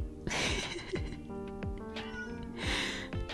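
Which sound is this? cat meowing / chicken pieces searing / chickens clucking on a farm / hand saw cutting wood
cat meowing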